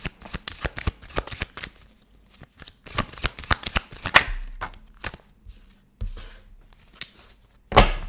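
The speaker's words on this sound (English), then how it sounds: "let's go and pull your tarot cards out, okay?" A deck of tarot cards is shuffled close up in quick riffling bursts of sharp flicks and slaps, with brief pauses between rounds and no speech.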